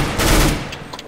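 A gunshot in Counter-Strike: Global Offensive on the Aztec map, a loud, close, brief burst of gunfire that quickly trails off, with a couple of fainter shots just after.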